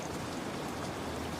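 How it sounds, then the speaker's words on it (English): Gentle rain falls as a soft, misty drizzle, a steady low hiss of fine drops without pauses or louder bursts. "broken only by the sound of the rain, which has now softened to a gentle,"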